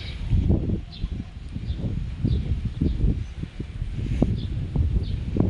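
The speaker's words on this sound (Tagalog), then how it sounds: "Kaya medyo malamig dito, mahangin" Wind blowing outdoors on a walk through a residential subdivision, low gusty rumble buffeting the microphone with rustling and a few faint chirps above it.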